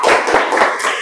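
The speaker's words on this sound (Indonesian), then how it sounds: "tepuk tangan buat kelompok Soekarno biar makin semangat" Quick bursts of applause for a school group called Soekarno, several pairs of hands clapping unevenly in a short, lively patter close by, with no talking over it.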